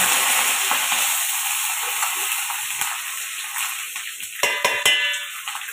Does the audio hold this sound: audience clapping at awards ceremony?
no